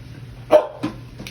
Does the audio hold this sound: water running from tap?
no